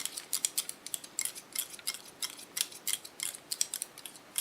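Rapid snipping of scissors cutting a woman's hair over a comb at a salon neckline, crisp close metallic snips in quick irregular bursts with no talking.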